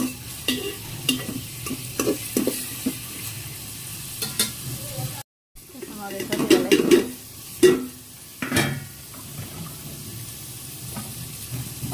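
Onions fry in hot oil for a rainy-day khichuri, giving a soft sizzle broken by scraping stirs and clatter. A brief silent gap comes midway, and then the frying resumes with sputtering pops.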